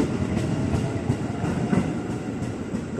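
A train rumbles steadily past at close range through Manggarai station at night, wheels giving a regular clacking rhythm over a continuous heavy roar.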